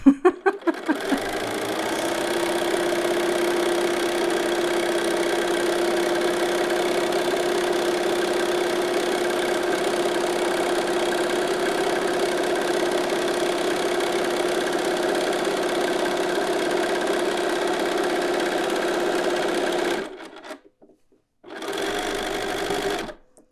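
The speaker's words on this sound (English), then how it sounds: "Pivot again and then sew back down the other side." A sewing machine stitches steadily along a hem for about twenty seconds, then stops briefly and runs again for a short burst, close and continuous with no talking.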